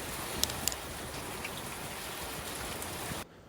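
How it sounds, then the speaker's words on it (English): Steady Washington rain falls outdoors during a smoking session, a soft, even hiss of drops with a couple of sharper nearby tick sounds, continuing until it cuts off near the end. "Gotta love that Washington rain."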